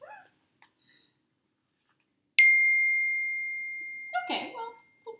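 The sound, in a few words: phone notification sounds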